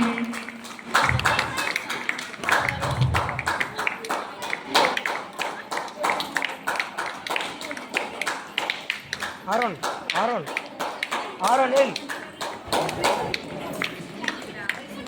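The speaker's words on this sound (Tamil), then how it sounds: "பார்வையாளர்கள் அனைவரும் கைத்தட்டி உற்சாகப்படுத்தும்படியாக கேட்டுக்கொள்ளப்படுகிறீர்கள்" At a church Vacation Bible School cultural program, the audience claps in sharp, uneven bursts to cheer on the children performing. The claps are close and distinct, and voices and announcements run through the whole stretch.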